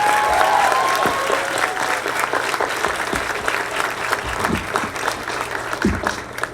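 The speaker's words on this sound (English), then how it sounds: "Give her a huge round of applause." A graduation audience breaks into loud, sustained applause, dense clapping from a large crowd that stays strong for several seconds before thinning slightly, with a few cheers mixed in.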